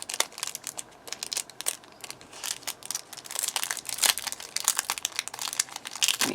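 Wrapping crinkles and crumples in quick bursts as a card-making die kit package is opened, close and fairly loud, growing busier toward the end with no talking.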